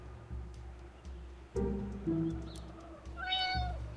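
Cartoon cats in the puzzle video game Puzzle Agent give a short, fairly faint meow near the end, preceded by a few soft bumps and clicks over a low background hum.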